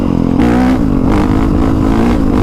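A 2020 Honda CRF450R dirt bike fitted with a Yoshimura exhaust revs hard and close, its engine note rising and dipping continuously across the whole stretch, loud and alone with no talk.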